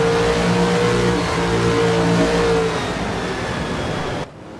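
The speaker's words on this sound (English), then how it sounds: "Just listen to that engine purr though." A race car engine roars loudly at high revs during the 24 Hours of Sebring race, its pitch holding and then shifting, continuous and close until it cuts off abruptly near the end.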